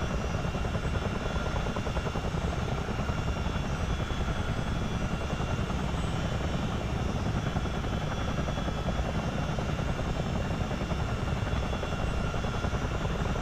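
A CH-47 Chinook tandem-rotor helicopter in a flight simulator game comes in to land on a runway, its steady, dense rotor and engine drone continuous and loud throughout.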